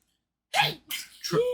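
A person sneezes once, a sharp burst followed by a quick trailing exhale and short vocal tail, close and loud against otherwise quiet surroundings.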